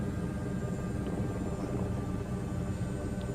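Helicopter rotor and engine noise in Microsoft Flight Simulator 2024, a steady, even droning hum with a constant low throb, heard alone with no talking.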